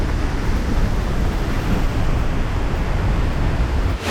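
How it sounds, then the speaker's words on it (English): A waterfall in Slovenia roars close by as a loud, dense, steady broadband rush of falling water with no break, ending in a brief dip and a rustle. "visiting this beautiful waterfall over here, which is so nice."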